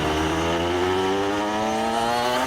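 A Honda NSR RR two-stroke motorcycle engine revs steadily up close, a loud, buzzy, raspy drone that climbs slightly in pitch, with no talking.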